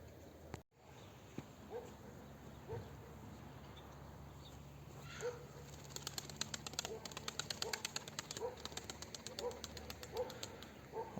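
Pigeons, including a small grey-ticked female, are let out for a short training flight. Faint coos and soft wing flutters come over a quiet outdoor background, then rapid clattering flaps build in the later seconds.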